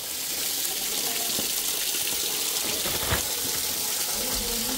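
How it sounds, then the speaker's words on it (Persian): Tap water pours loudly and steadily while hands are washed, a broad continuous gush with small splashes and no talking. "حالا دست‌هاتون رو بشورین"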